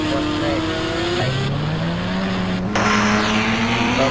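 A revving video game motorbike engine whines up and down in pitch, loud and continuous, with game-like mechanical drone and no speech.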